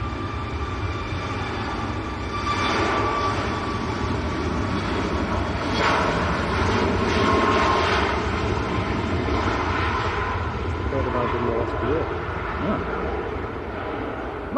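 A TUI airliner at Manchester Airport bound for Antalya rumbles at a distance with a broad, steady roar that swells and eases, while people talk faintly underneath.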